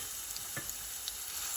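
Garlic paste frying in a pan for a mushroom coconut curry, a steady bright sizzle held close and even throughout, with a few faint scrapes of stirring and no talking.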